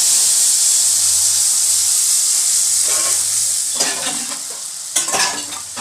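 Mustard paste hitting hot oil in a wok for a mustard hilsa curry, giving a loud, steady hiss and sizzle with occasional stirring scrapes and bursts of spatter toward the end.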